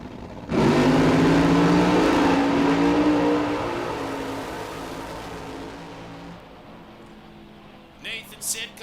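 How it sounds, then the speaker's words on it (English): A nitro funny car blasts off in a final-round drag race at RAD Torque Raceway, an abrupt deafening roar that holds for a few seconds and then fades into the distance, followed by brief crowd noise. "Nitro Funny Car."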